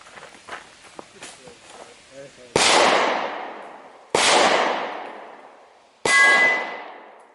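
Three 9mm hollow point gunshots striking a Tofu 60 at an outdoor range, each a sharp loud crack with a long decaying ring, spaced about two seconds apart after a stretch of quieter footsteps and handling noises.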